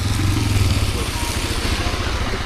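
A motorcycle engine drones steadily while riding on a rainy day trip, a loud, continuous low rumble with light mechanical clatter and no speech over it.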